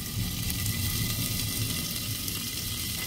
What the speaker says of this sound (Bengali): একটু ভালোভাবে নেড়ে কিছুক্ষণের জন্য ঢেকে দিচ্ছি।